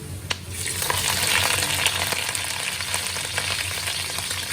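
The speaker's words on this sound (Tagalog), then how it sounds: "Ilalagay na natin yung ating river prawns." River prawns frying in a pan with browned garlic and ginger, a loud steady sizzle with occasional crackles and stirring clinks, no talking.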